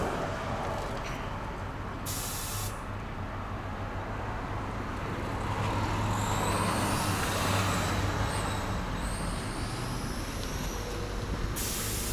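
Steady hiss of compressed air inflating a three-wheeler's tyre runs continuously under a low mechanical hum, with brief higher bursts of air partway through; no voices.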